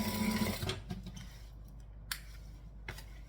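A sewing machine stitches a bag seam in a short whirring run at the start, then stops, followed by a few faint clicks and handling sounds in a quiet room.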